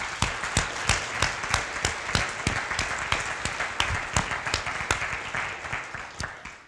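Applause from a modest audience at a university town hall, individual claps audible in an uneven, fairly sparse rhythm that carries on steadily at moderate volume.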